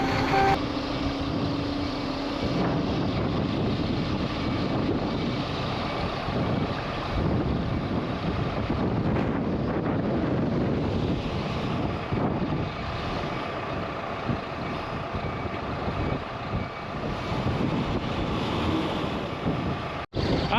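Strong wind buffets an outdoor microphone with a constant heavy rumble and roar, blowing steadily throughout near a truck carrying spud machines in exposed, windy conditions.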